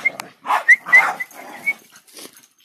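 A dog at play gives short growls and grumbling vocalizations in a few separate bursts, close and fairly loud against a quiet background.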